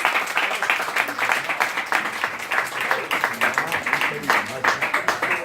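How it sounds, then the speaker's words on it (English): Audience clapping at a company training event aboard a Carnival cruise ship, a round of hand claps with uneven bursts and swells, mid-distance, with a voice faintly under it. "Please, round of applause for Andrew Wirtz from Indenico."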